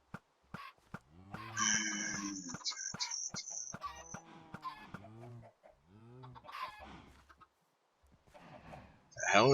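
Chickens in the Minecraft GregTech modpack clucking and squawking in short bursts with pauses, fairly close, while a person talks over them.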